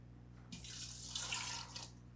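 Water is poured over beans in a pressure cooker pot as a steady, faint splashing stream. It lasts about a second and a half, then stops.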